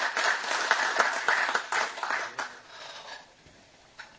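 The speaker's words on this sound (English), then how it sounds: "Let's hear a louder round of applause for our Chief Minister." Round of applause from an audience at the inauguration of the Indo-American Chamber of Commerce in Goa, honoring the Chief Minister: loud, dense hand clapping with distinct sharp claps that thins out and fades toward the end.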